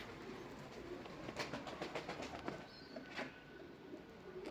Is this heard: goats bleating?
no